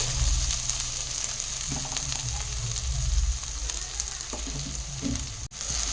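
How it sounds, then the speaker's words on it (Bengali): Steady frying sizzle of diced onions in a pan, continuous and fairly close, with occasional clinks of a utensil stirring. "পেঁয়াজগুলো আমি ভালো করে ফ্রাই করে নিচ্ছি"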